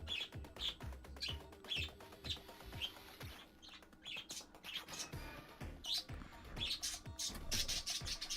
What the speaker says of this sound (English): Oh my god, the birds.